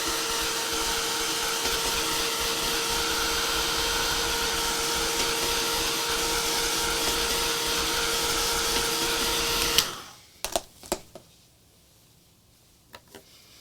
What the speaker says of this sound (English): So I'm going to shoot this with some heat.